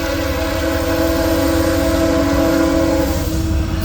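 A loaded CSX coal train rolls past at Morgan Station, its heavy rumble loud and steady throughout while the horn sounds in sustained tones over the wheel noise.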